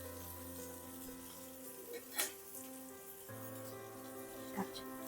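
Cabbage manchurian balls frying in hot oil give a steady, close sizzle throughout, with a couple of brief louder crackles or stirring clinks.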